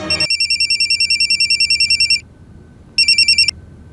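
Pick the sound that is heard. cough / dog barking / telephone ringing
telephone ringing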